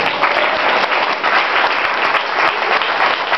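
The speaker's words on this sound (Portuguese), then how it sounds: "aplauda o Senhor" A church congregation claps steadily for the Lord during a worship service, a dense, continuous wash of many hands filling the room without pause.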